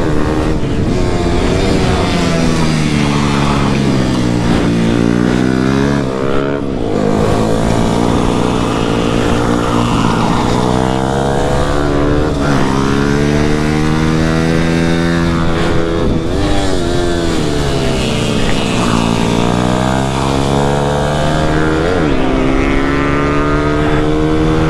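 Husqvarna 450 motorcycle engine revving up and down continuously at close range, loud harmonic whine rising and falling in repeated sweeps as the rider works the throttle.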